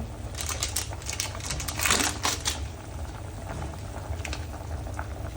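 Japanese curry sauce simmers in a pot after curry roux blocks are stirred in, giving a steady close bubbling and popping with a brief louder burst of activity, and no talking.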